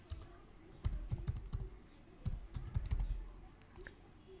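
Typing a domain name on a computer keyboard, with a quick run of soft, close key clicks in uneven bursts and short pauses between them.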